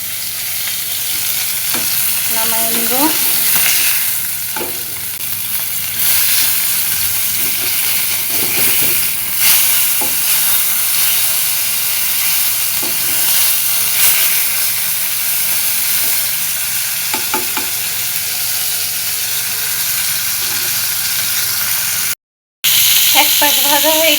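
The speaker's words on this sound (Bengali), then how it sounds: "ভালোভাবে মাছ ভাজা হয়ে গেছে, মাছের মাথাগুলো ভাজা হয়ে গেছে" Fish pieces and fish heads fry in hot oil, giving a steady loud sizzle and hiss with occasional stirring clinks and scrapes, and a brief spoken phrase partway through.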